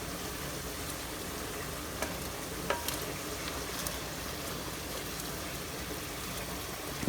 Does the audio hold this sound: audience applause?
no